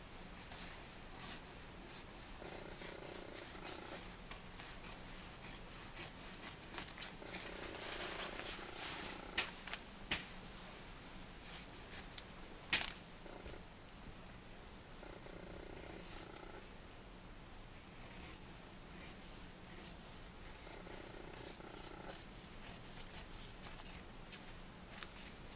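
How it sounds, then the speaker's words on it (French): Fabric is cut with scissors while sewing a bag for an Easter egg hunt. Quiet, close snipping and rasping continues unevenly throughout, with no one talking. "Et donc là, je vais venir couper"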